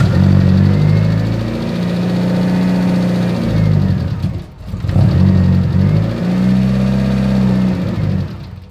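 Freshly rebuilt Mitsubishi Evo engine running during break-in as the revs are swept between about 2,000 and 3,000 rpm, a loud close drone rising and falling twice, with a brief dip as it nearly stumbles midway.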